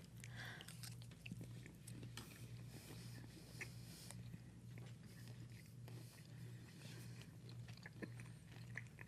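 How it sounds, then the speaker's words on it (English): Someone chewing a bite of food with nuts in it, with steady close mastication and soft crunching over a low background hum, no talking. "A lot of chewing."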